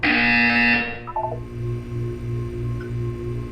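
An electronic buzzer from the Portal video game sounds as a short falling series of tones, then a low, steady pulsing hum repeats in even beats, moderately loud with no talk.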